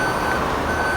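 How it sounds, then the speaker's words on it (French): A snow-clearing machine on a Russian winter road lifts snow and drops it into an orange truck waiting behind it. The engine drones steadily and loudly throughout, with a broad band of mechanical noise and no talk. "La machine avance et la neige monte et elle tombe dans le camion orange qui est juste derrière."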